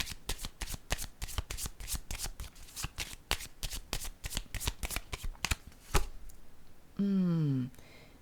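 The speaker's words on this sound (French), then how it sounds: "je vais piger une autre carte" A deck of playing cards riffled and shuffled in a rapid train of sharp, close flicks for about six seconds, then a card drawn, followed by a brief tonal sweep with no talking.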